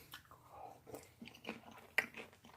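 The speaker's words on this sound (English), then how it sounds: "I'll say that as I'm munching them." Someone munches microwave popcorn cooked in a rice cooker inside a van, with soft, close crunching and chewing in an irregular rhythm and one sharper crunch partway through.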